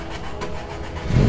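A classic car engine fitted with ITVs catches and starts at a cars-and-coffee meet, its close, rough mid-range rumble building into a louder surge at the very end.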